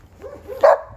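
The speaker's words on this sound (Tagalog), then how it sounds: "Yan po, may aso." Small dog giving a short burst of yips rising into one sharper bark, close by and alone.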